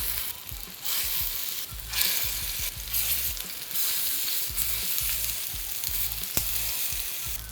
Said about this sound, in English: Going with a little bit of olive oil in the pan. I'm just gonna add the meatballs.